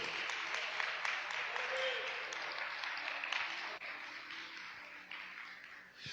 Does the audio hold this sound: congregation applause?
yes